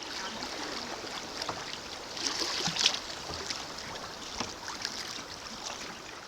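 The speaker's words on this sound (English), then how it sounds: "We can really hear the creek now." White water of Antietam Creek rushing over rocks during a float trip, a steady broad hiss of flowing current with brief splashy surges, moderately distant.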